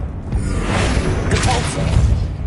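A Confringo explosion spell fires in a Harry Potter video game, a dense, roaring blast with a sharp burst and whooshing crackle that fills the whole moment at steady loudness.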